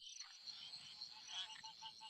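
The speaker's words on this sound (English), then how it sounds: "That meh, meh is the dwarf ridged frog." A dwarf ridged frog calls, a faint high-pitched chorus of repeated short notes over quiet background with no talking.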